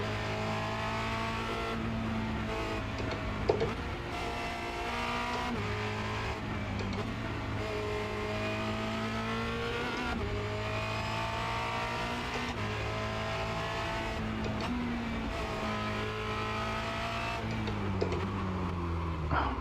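A Formula Renault 2.0 race car on the Charlotte Motor Speedway Roval holds a loud, close onboard engine note for the whole stretch, revving up and dropping back with each gear change.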